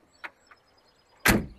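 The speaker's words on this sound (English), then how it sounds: "Boy, the doors, they shut so easy." A VW Super Beetle convertible's door is shut: a faint click early on, then one loud, solid thump that ends the short clip.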